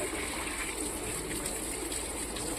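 Water pours steadily over puppies being bathed in cold weather, making a continuous close gushing splash with no pause.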